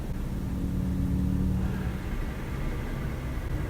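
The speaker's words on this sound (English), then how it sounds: "I'm sorry if you can hear the constructions that are happening right now." Steady low rumble of distant construction machinery and heavy equipment outside the window, a constant dull drone with a faint hum shifting partway through.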